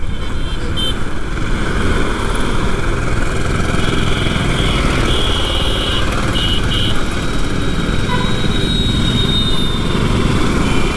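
A KTM RC 200 BS6 motorcycle engine drones continuously at close range while riding, a steady loud hum with wind rush, its pitch holding fairly even throughout.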